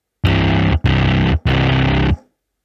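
A heavily distorted synth tone stacked across three octaves in Logic Pro X, for a Mad Max: Fury Road-style film score, plays as three loud sustained blasts of similar length, each cut off sharply.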